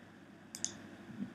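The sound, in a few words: mouse click on save button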